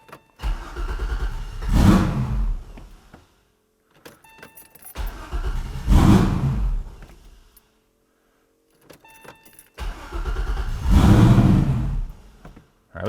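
Twin-turbo V8 swapped into a Porsche 911 cranking and catching three times, each attempt a loud rising engine burst lasting a couple of seconds before cutting out, separated by short quiet gaps with faint clicks.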